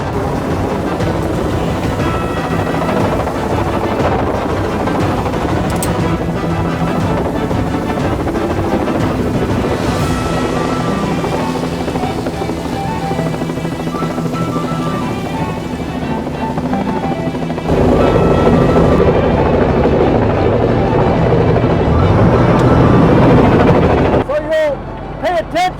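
A helicopter lifting a cabin off a boat to a cliff edge in a remote Alaskan cove: loud, continuous rotor thrum and engine whine dominating throughout, with people talking over it and wind buffeting the microphone.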